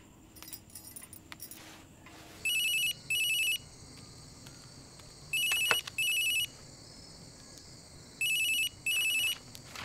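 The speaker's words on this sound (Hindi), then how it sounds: "बुआ, देखो तो फोन है किसका।" A mobile phone rings in repeated pairs of electronic trilling bursts, sounding three times with pauses between, over a faint room background with an occasional clatter.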